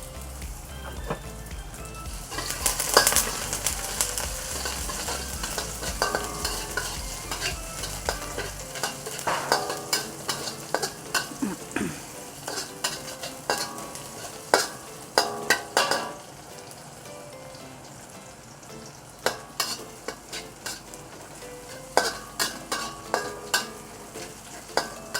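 Garlic and ginger stir-fried in a pan, with a steady sizzle under repeated sharp scrapes and clacks of a utensil against the pan, close and continuous throughout.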